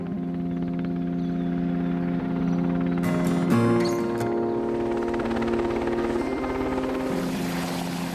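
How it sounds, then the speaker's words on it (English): Helicopter during Royal Marines helicopter drills, a loud continuous rotor and turbine roar with a steady low drone and a brief burst of sharper mechanical noise partway through. "What you can see here is the guys practicing their helicopter drills."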